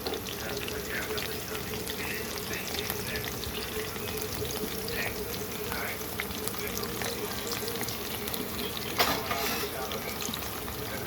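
Finely chopped onions frying in a pan, a steady sizzling hiss that runs throughout with someone talking over it.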